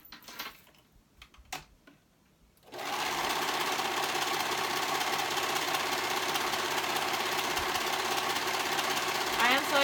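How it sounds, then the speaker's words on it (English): A serger overlock machine sews the back seam of a jumper skirt, kicking in after a few quiet seconds of clicks and handling sounds into a loud, rapid, continuous whir that runs to the end. "And I'm going to go ahead and serge that seam."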